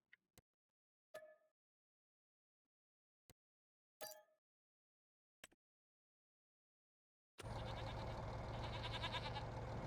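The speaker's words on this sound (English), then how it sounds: "Let's grab the sheep." Sheep bleating in a farming video game, a handful of short separate bleats spaced apart over quiet, followed by a sudden loud, dense burst of sound at the end.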